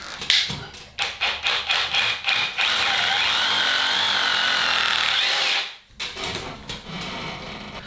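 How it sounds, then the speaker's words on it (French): A power drill bores holes into crumbly brick for wall anchors, first in short repeated bursts, then in one long sustained grinding run that stops and gives way to a few lighter taps and bursts. "on est sur de la brique, donc il va falloir que je fasse des trous, que je mette des chevilles"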